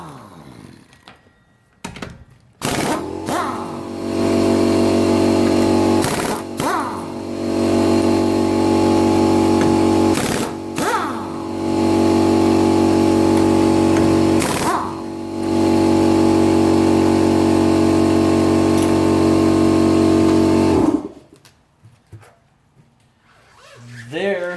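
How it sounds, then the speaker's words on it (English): A very small air compressor in a garage kicks on with a loud, steady motor drone that runs for about eighteen seconds, briefly dipping a few times before cutting off into near quiet. "you're probably going to hear my compressor kick on"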